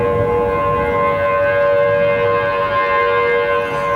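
A Thunderbolt civil defense siren at a fire station sounding its test as a loud, steady wail that holds for the whole stretch, with no voices.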